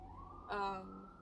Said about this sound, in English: the sirens. I am next to a hospital.